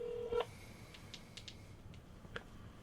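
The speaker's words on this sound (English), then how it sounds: "No, I'm calling him." Touch-tone dialing beeps from a phone placing a call, a short series of separate tones spaced irregularly, fairly faint and with no voices over them.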